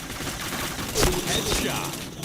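A short burst of rapid gunfire rattles out in a shooter video game, with a couple of loud shots close together mid-clip and faint game noise around them.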